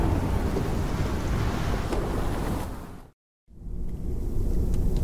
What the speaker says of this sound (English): 4 weeks the storm had raged on